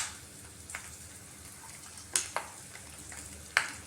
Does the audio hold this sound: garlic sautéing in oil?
yes